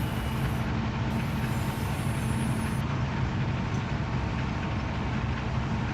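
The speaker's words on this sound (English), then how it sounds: "So there's the whole train." A freight train rolls past in the Run 8 train simulator game on the Pittsburgh line, giving a steady, loud low rumble with continuous rail noise and no break throughout.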